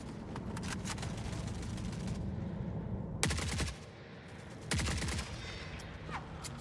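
Turret gunfire in the video game Forever Winter: dense, sustained rattling bursts over a noisy battle backdrop, with two sharp loud volleys standing out near and heavy.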